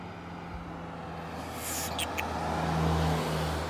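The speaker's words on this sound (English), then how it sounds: "A ton of cars coming down now and going up" Cars passing on a road next to skateboarders, a broadband rumble swelling toward the end as several vehicles approach and go by, with no talk over it.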